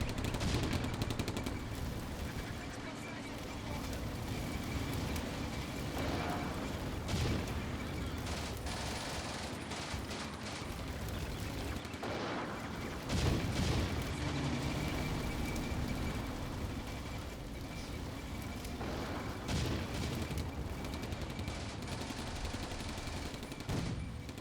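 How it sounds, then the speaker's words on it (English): Distant, sustained rifle and machine-gun fire from a WWII Eastern Front battle in Combat Mission: Barbarossa to Berlin, with T-26 tanks against Panzer IIIs; scattered cracks and bursts over a rumbling background, no voices. "they're shooting at my infantry over there"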